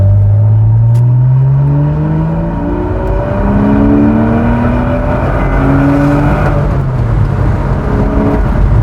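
A Porsche Boxster sports car engine pulls hard along a straight, loud and close, its pitch climbing through the revs in several repeated sweeps as it shifts up through the gears.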